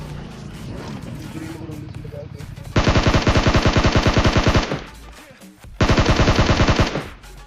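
Automatic gunfire in the mobile battle-royale game PUBG Mobile: two long, loud bursts of rapid, evenly spaced shots, the second shorter, over a busy background of game sound and speech.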